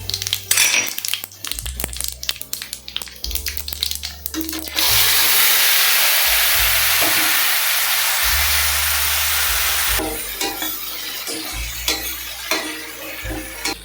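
A tempering of spices and asafoetida in hot oil sizzles in a loud, steady hiss for several seconds in the middle, framed by clattering and stirring in the pan before and after.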